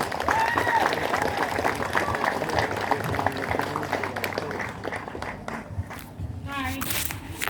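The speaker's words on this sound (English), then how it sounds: "I think she deserves an extra round of applause." A crowd at a community police-support event claps in sustained applause for the event organiser, with scattered voices and footsteps mixed in as the clapping gradually thins out.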